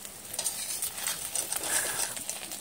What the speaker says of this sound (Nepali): अब हामी त्यही तेलमा माछालाई पनि फुराउने काम गर्दैछौँ।